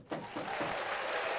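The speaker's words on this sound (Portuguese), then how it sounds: "Cadê as palmas?" A studio audience on a Brazilian TV talk show breaks into applause. The clapping starts suddenly and keeps a steady, dense patter throughout, moderately distant, with no voices over it.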